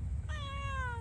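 A single clear meow from a small kitten, close and fairly soft, a rising then falling tonal call lasting under a second over quiet background hum.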